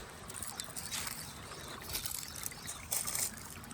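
Irrigation water rushes steadily through a field channel in a Pakistani village, with mango leaves caught in the flow. It makes a continuous close, gurgling wash with brief surges and no voices.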